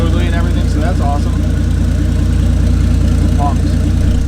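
A Toyota 1JZ engine fitted with a single turbo kit, in a Soarer, idles steadily at close range. A loud, even low rumble holds throughout, with faint voices in the background.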